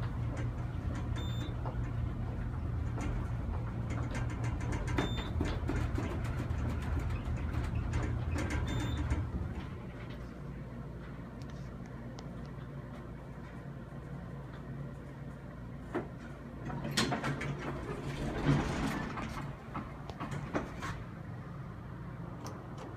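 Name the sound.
original US Elevator traction elevator motor running during ride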